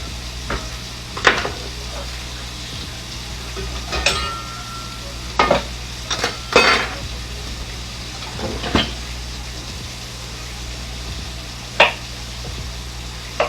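Lamb shanks sear in a hot pan with a steady sizzle, broken by sharp clanks and scrapes of utensils on cookware at irregular moments, with no voices.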